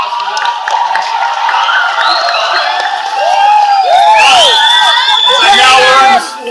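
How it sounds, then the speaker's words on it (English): A large arena crowd at Madison Square Garden claps, cheers and whoops loudly, with shrill whistles and shouts rising over the roar before it cuts off near the end. "give yourselves a round of applause for that"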